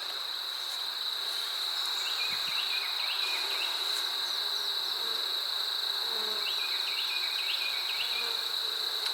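Honeybees swarm around an open beehive, a steady close buzzing drone that holds for the whole stretch, with no voices over it.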